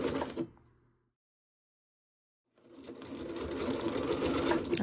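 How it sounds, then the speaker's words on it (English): Sewing machine stitching around a fabric seatbelt cover, a short burst of stitching, a pause of silence, then a steady, rising run of fast mechanical stitching close up. "I'm just gonna sew all the way around."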